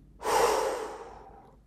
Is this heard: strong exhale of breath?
yes